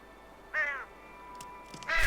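Crow cawing in the video game Unravel, two distinct harsh caws about a second and a half apart, clear and close over a quiet background.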